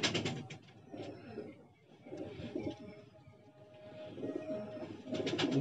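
Large pigeons cooing at close range, soft low repeated coos with a few chirps, alongside scattered rustling and handling noise from the birds.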